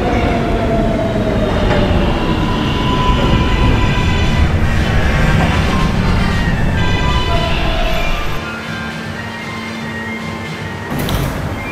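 An R143 subway car on the New York R local line runs steadily with loud broadband rumble and clatter, faint tonal whines, then the roar drops slightly near the end as it slows, with a brief burst just after.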